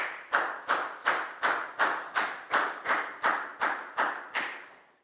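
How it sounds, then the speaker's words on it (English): About a dozen even, sharp claps from a primary school class in a steady rhythm, fairly faint and close, with no voices. "Big round of applause for Nadia, please, guys"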